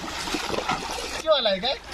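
Water splashes and sloshes up close as someone wades into deeper water in a village, followed by people talking.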